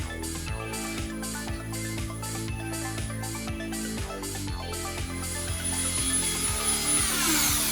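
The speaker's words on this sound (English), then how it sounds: "I have to use a Dremel to cut it precisely." A handheld Dremel rotary tool carves a logo into a wooden tabletop, giving a steady high whine with rhythmic pulses as the bit is pressed and eased, close and continuous throughout.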